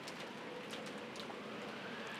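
Steady rain in the Umineko When They Cry visual novel, a faint, even hiss of falling drops with soft scattered patters throughout, continuous and unchanging.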